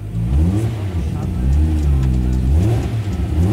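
Nissan 350Z fitted with a forged 1JZ engine revs loudly and steadily nearby, its mid-pitched engine note rising and falling through several throttle blips while people talk over it.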